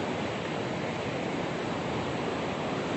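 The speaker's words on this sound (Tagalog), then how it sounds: "Makikita po natin ang karagatan ng Bulusan, ang kagandahan ng aming bayan." Sea waves at Miliga-biga Beach in Bulusan wash in a continuous broad hiss of surf, steady and moderately loud, with a breath of wind and no voices.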